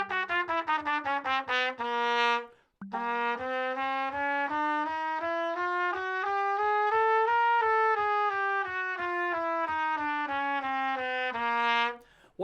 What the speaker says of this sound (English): So the chromatic scale sounds like this.